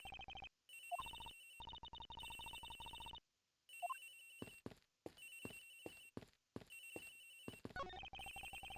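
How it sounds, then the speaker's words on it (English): A telephone rings in the Ace Attorney Investigations video game, repeated electronic ring bursts separated by short silent gaps, clear and steady with no talk. "Sounds like the phone is up in the flight attendant's room."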